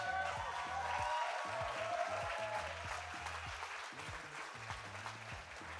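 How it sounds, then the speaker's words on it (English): Crowd applause at a trampoline wall competition, moderate and steady under a booming rhythmic music track with a repeating low beat. "Everyone give a big round of applause for all of the females up there competing."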